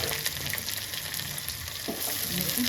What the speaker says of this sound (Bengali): রসুনটা ভাজা ভাজা হয়ে গেছে দিয়ে দিচ্ছি পেঁয়াজ কুচনো